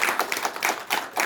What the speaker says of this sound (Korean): 우리 안 박사님한테 박수 한번 부탁드립니다